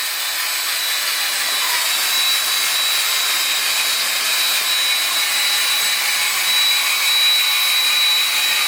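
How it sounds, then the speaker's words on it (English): Eraser wheel grinding leftover vinyl wrap adhesive off a vehicle panel, a steady, bright, high-pitched whir with a rubbing edge, close and unbroken throughout. "he has an eraser wheel, which is basically wiping"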